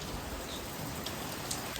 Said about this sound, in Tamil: மழை சும்மா பாட்டே கிளப்புதுங்க.